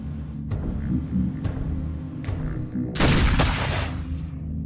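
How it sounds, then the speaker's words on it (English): Gunfire in the film The Golem erupts as a loud, dense burst of shots over a low rumbling background, preceded by a few fainter knocks. "We heard gunfire."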